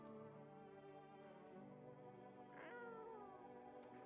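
A cat meowing in a video game, a faint drawn-out meow with a rising, wavering pitch over steady low background sound, with no talking.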